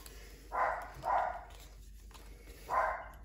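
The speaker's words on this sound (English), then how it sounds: "Sorry guys, if you hear my dogs again" Pet dogs give three muffled barks from another room, two close together and a third after a pause, faint against a quiet indoor background.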